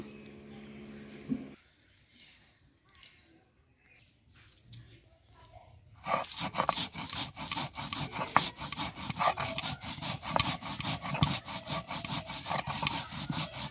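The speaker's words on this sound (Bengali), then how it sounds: "লাল লঙ্কা তেলে ভেজে নিয়েছি, এটাও বেটে নেব লবণ দিয়ে" Oil-fried dried red chillies are ground with salt on a stone, producing a steady run of rough, rhythmic scraping strokes that starts partway through and continues to the end, close and moderately loud.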